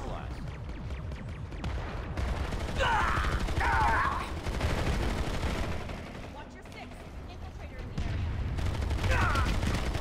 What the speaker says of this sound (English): So that's where all that shooting was coming from.